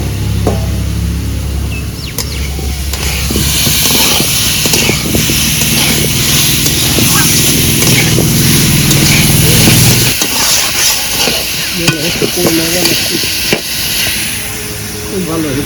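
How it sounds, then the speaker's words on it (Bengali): Potatoes are added to spice paste and stirred in a pan for an egg curry, with a loud, close rumbling sizzle and scraping in the first two-thirds, then quieter clatter while someone talks. "এবার দিয়ে দেব আলু আলু দিয়ে আর একটু কষে নেব"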